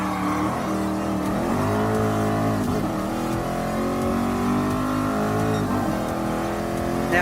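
Ferrari 330 P4 race car engine in Gran Turismo Sport, racing a 1979 nostalgic event: a loud, continuous engine drone with shifting pitch as it revs and holds speed, close and steady throughout with no talk.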